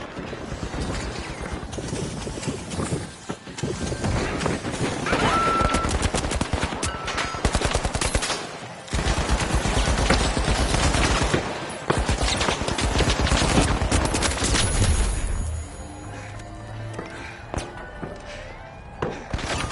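A match in the video game The Finals is filled with dense, nearly continuous gunfire and rapid bursts, with RPG blasts and clanking mechanical thuds, all loud and close, easing off briefly near the end.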